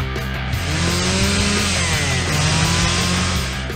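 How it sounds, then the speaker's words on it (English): A chainsaw runs steadily and loudly throughout, its engine drone holding constant with a rough buzzing edge, near and alone with no talk over it. "Oh! A chainsaw!"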